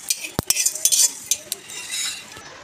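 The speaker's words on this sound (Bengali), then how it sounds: "গোলমরিচটা আগে ভেজে নিচ্ছি হালকা আছে, বাকি মশলাগুলো একসাথে ভেজে নিচ্ছি।" Black pepper and other whole spices dry-roasting in a pan for chilli chicken, heard as brisk scraping and light clinks of a spoon stirring, with a couple of sharp knocks near the start, fairly close and with no talk.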